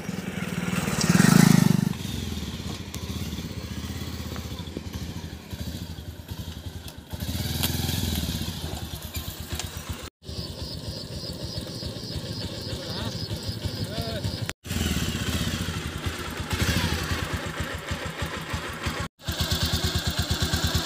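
A motorcycle engine runs close by for about twenty seconds, a steady loud drone with shifting revs, as the bike is ridden over a mobile phone; people talk throughout and there is a brief loud burst near the start.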